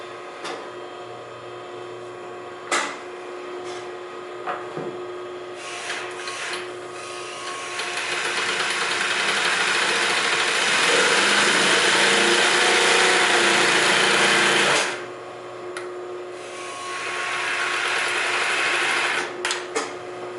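Consew 3302 industrial double-needle chainstitch sewing machine stitching through layers of denim, a steady loud mechanical whir rising around the middle and running for several seconds, with quieter clicks and handling before and after.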